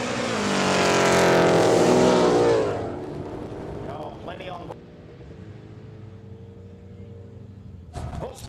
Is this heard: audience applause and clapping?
no